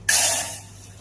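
Milk poured into hot roasted semolina in a pan gives a sudden loud hissing sizzle that bursts in at once, then slowly fades over about a second.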